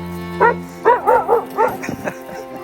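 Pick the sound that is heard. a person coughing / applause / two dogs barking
two dogs barking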